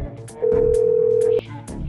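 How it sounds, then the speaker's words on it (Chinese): A telephone gives one loud, steady electronic ring tone lasting about a second, set against a backdrop of regular rhythmic beats. "快接电话啊"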